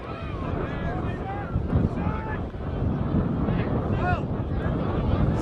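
Gusty wind buffets the microphone in a steady broadband rush at a football match, with a voice talking over it and occasional distant referee whistles.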